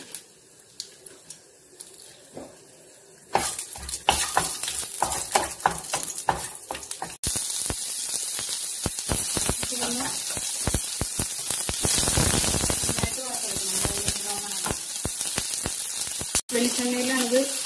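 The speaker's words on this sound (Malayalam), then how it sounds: "ചട്ടി ചൂടായിട്ട് നമുക്ക് ഇത്തിരി നെയ്യ് ഒഴിച്ചു കൊടുക്കാം. നട്ട്സ് ഫ്രൈ ചെയ്യാൻ വേണ്ടി മാത്രം." Nuts fry in ghee in a hot pan for a Kannur-style prawn biriyani. Clattering utensil handling leads into a loud, sustained close sizzle with stirring and scraping, and a voice talks over parts of it.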